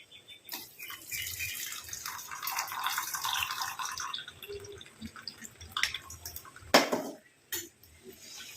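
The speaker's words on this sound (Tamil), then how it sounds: "இப்போ நம்ம இதை வடிகட்டி தான் எடுக்க போகிறோம்." Liquid tea-powder decoction poured through a strainer into a bowl, giving a continuous close trickle and splash of water that tapers off, with a few sharp drips and clinks toward the end; no talking.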